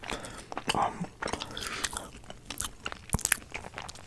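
Homemade bread is chewed close to the ear, with irregular crunchy bites and moist mastication sounds coming in quick uneven bursts, with no talking.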